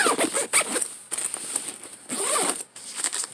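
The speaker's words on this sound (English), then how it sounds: "I like this one because it zips up" A zipper is pulled around a journal carrying bag in several quick, close, scratchy runs with brief pauses between them, heard alone.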